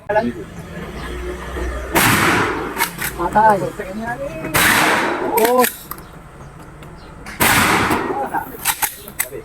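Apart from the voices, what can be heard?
gunshots at a firing range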